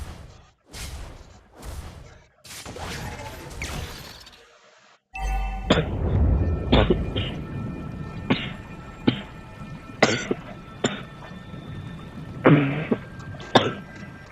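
Several sharp coughs and throat-clearing bursts, close by, spaced irregularly, with faint clinking in the background.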